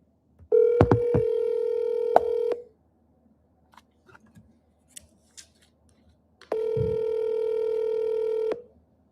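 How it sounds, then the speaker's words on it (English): An outgoing telephone call rings back twice with a steady electronic ring lasting about two seconds each time, with a quiet pause between the rings and a few small clicks. "I'm going to give them a call right now. Hopefully they pick up."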